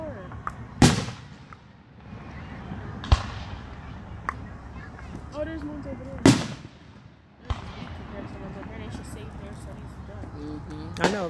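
Fireworks go off outdoors: four loud, sharp bangs spaced a few seconds apart with fainter pops and crackles between, while people talk and react throughout.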